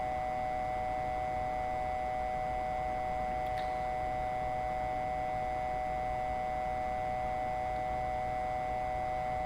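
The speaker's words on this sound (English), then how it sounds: "it's my vertical speed noise" Airbus A320 vertical speed warning tone in a flight simulator game: a steady, continuous electronic tone holding unbroken for the whole stretch at moderate level, with no talk over it.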